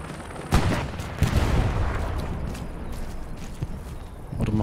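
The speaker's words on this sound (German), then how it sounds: "Ui, hier wird geschossen." Gunfire in the war game Hell Let Loose: scattered sharp shots and bursts, some close and loud, others more distant, over a steady rumbling battlefield bed.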